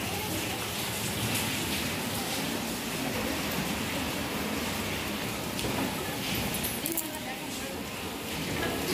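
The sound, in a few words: rain falling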